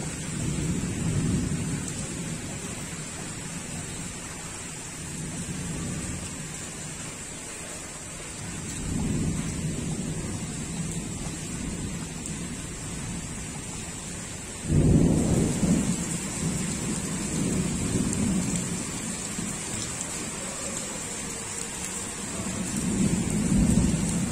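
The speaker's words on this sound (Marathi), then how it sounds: "पावसाच्या अचानक सरी कोसळल्यामुळे वाहतूक करणाऱ्या नागपूरकरांना मात्र भयंकर त्रास झालाय" Heavy rain falls in Nagpur as a steady hiss while thunder rolls and rumbles low several times, with one sharper, louder crack near the middle.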